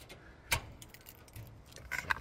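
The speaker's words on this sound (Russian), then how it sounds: "Ключики забрал." A small bunch of keys jangles faintly as it is picked up indoors, with a sharp clink, some quiet rattling and a brighter jingle near the end, with no voices.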